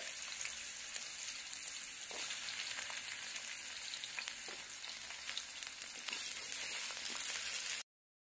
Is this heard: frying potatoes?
yes